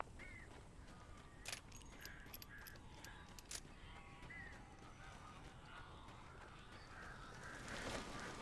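Crows caw in the Alan Wake video game, a cluster of harsh calls in the middle stretch over a steady ambient background, fairly faint and at a distance.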